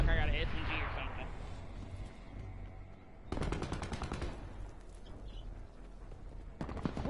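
Rapid gunfire from a first-person shooter game, with bursts of sharp shots in quick succession in two or three clusters over a busy game soundscape, loud and close.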